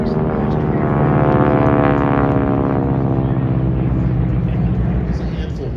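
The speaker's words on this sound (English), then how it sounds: "If you can hear that deep throat rumble, that's the engine." T-6 propeller trainer airplanes passing at an airshow, a loud continuous deep engine rumble with a harsh buzzing propeller edge, swelling and then easing slightly as they go by.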